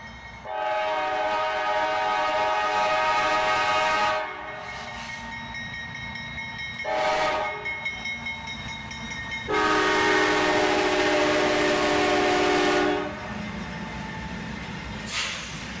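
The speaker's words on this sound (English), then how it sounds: "a bit of foreign power with 2 Norfolk Southern locomotives and a YN2 CSX-9" Freight train led by two Norfolk Southern locomotives with a CSX unit, sounding loud, long harmonic horn blasts in several separate bursts over a steady rolling rumble of the passing train.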